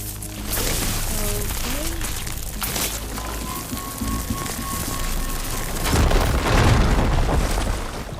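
Firegleam deposit exploding in Horizon Forbidden West, a loud booming blast followed by a rushing, rumbling debris roar and crackle, with a character speaking over the start.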